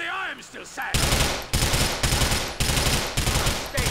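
Shotgun blasts in Grand Theft Auto IV, five or six loud, close shots at a quick, steady pace after a short stretch of someone talking.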